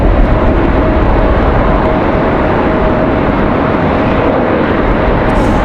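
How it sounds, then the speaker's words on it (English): An Airbus A220 jet airliner departing Raleigh-Durham on a windy day gives a loud, steady engine roar with a faint whine running through it, heard alone for a few seconds. "Another nice A220 departure."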